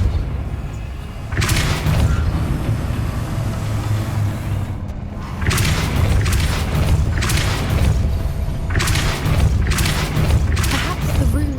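Depulso spell blasts in the Hogwarts Legacy video game: several heavy, booming bursts that come in clusters over a steady low rumble, with a sharp onset each time and a brief lull between groups.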